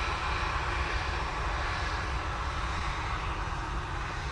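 A Virgin Atlantic Airbus A350-1000 lands at Manchester Airport on a contaminated runway. Its jet engines give a loud, steady, broadband roar that carries without a break through the whole stretch.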